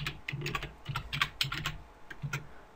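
Computer keyboard typing while a path variable name is entered during an Apache Tomcat 7 setup: a close, quick run of crisp key clicks with short pauses, no talking.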